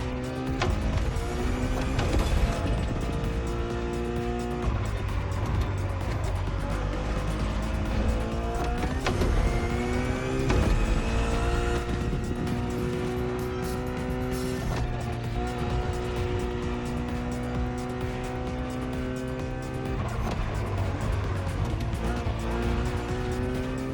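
A road-legal Ferrari supercar inspired by Formula One, in The Crew Motorfest racing game, roars through repeated rising gear changes with high revving engine notes and brief tire squeals, loud and continuous.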